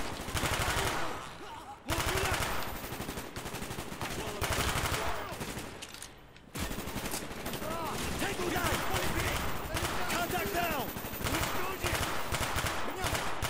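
Dense, loud gunfire from dual-wielded Makarov pistols and other weapons in the Call of Duty: Black Ops video game, sustained nearly throughout with rapid overlapping shots and one short break, while a player talks over it.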